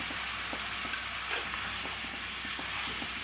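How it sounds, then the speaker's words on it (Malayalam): Chicken stew ingredients frying in a pan for a Kerala-style Christmas stew: a soft continuous sizzle broken by a few faint scrapes and taps of stirring, fairly quiet and close. "ഇതെല്ലാം കൂടി നമുക്കൊന്ന് ഇതുപോലെ ഒന്ന് ഇളക്കി കൊടുക്കാം."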